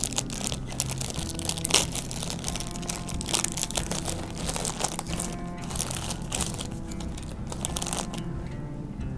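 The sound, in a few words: opening the plastic bag holding a Covid test tube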